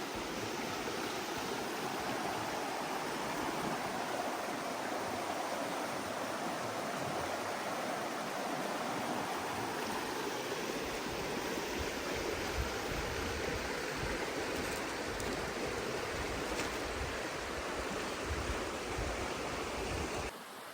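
A river flows beneath a bridge in a Swedish forest on a rainy day, a loud, steady broadband rush of water that continues unbroken throughout.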